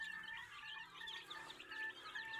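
Young hybrid and paabo chicks in a pen give soft, high repeated peeps and clucks, faint and somewhat distant, over a quiet background.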